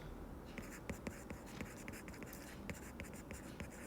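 Pen or chalk writing by hand during a probability lesson, quiet scratchy strokes and taps in uneven bursts over a soft background hiss.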